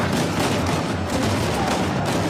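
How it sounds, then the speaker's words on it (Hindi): Machine gun fire in the video game Uncharted 4: A Thief's End rattles loud and dense, a continuous stream of rapid shots without a break. "गोलियां मिल रही है भाई, मशीन गन भी मिल ही जाती है।"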